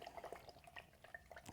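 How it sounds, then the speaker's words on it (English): A paintbrush is rinsed in a cup of water, with quick light sloshes and drips in an irregular patter. The sound is faint and close. "Clean that brush really good. You hear it sloshing around in that water?"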